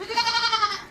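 A single goat bleats in one sustained, wavering call lasting about a second, close and loud with no voices.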